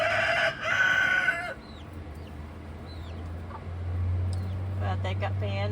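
Mother hen clucking inside a coop with chicks nearby, short repeated clucks standing out over a steady fan hum, with a rooster-like call and other birds faintly in the mix.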